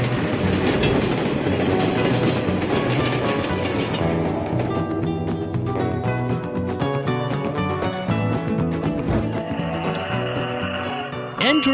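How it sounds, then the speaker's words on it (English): Toy train set with smoke, sound and light effects running on about four metres of track, giving a steady loud clickety-clack rumble under bright layered electronic tones throughout. "Choo-choo-choo! Here comes the train!"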